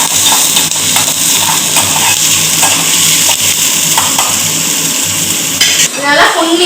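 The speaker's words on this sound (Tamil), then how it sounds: "இந்த 2 வெங்காயம் வந்து ரெட் சாஸ் பண்றதுக்கு பொடிசா கட் பண்ணி வச்சிருக்கேன் அதை போட்டு நல்லா வதக்கணும்" Finely chopped onions sautéing in a pan for a lasagna red sauce, a loud continuous close sizzle with steady stirring scrapes and utensil clatter, and no voices.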